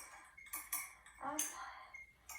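Oil and chalk are stirred together in a small container, giving a few short clinking and scraping strokes in quick bursts, close and fairly quiet.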